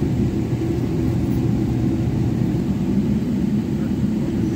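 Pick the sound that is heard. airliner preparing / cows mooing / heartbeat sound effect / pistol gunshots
airliner preparing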